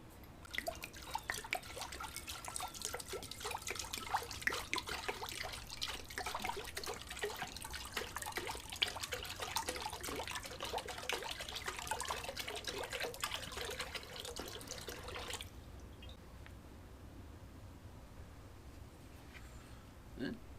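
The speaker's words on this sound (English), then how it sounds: "fill it about halfway up with water" Water runs steadily from a tap into a crock pot for about fifteen seconds, a continuous splashing trickle with small drips, then cuts off, leaving quiet room tone.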